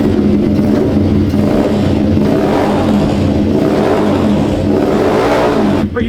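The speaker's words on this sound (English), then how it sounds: "press your electric start," An M2R 90R pit bike engine, just started with the electric start, revs loudly and steadily with a throttle-driven buzzing roar, up close, and drops sharply at the very end.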